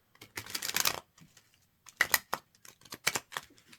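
Tarot cards are shuffled close up in soft quick riffling bursts, a longer flurry of papery flicks, a pause, then several shorter bursts, all fairly quiet with no talk.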